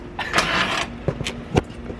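A Subaru BRZ engine starting outdoors on a cold morning, with short cranking bursts and sharp transients before it settles into a low idle.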